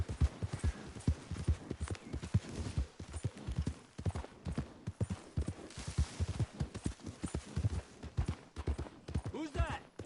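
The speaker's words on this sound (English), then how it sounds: "Horses in camp, Arthur." Horse hooves clip-clop in a steady walking rhythm at a camp in Red Dead Redemption 2, the clatter running throughout under frequent overlapping talk.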